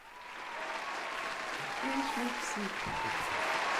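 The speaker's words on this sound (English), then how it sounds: "let's give a big applause for Sarah" Applause from an audience that builds and holds steady, with some voices mixed in beneath the clapping.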